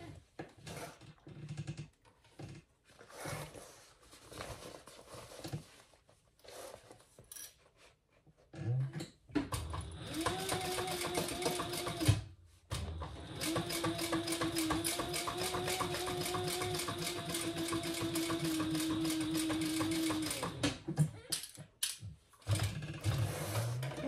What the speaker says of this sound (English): we're gonna stitch across those and close those up